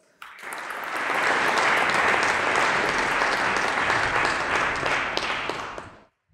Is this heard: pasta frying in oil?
no